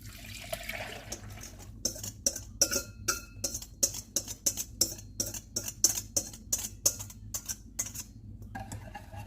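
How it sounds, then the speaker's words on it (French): A metal whisk beats custard cream in a saucepan on medium heat, giving rapid rhythmic clinking scrapes against the pan in steady strokes, close and clear, with no talking. "on va laisser la crème s'épaissir en mélangeant au fouet une dizaine de minutes"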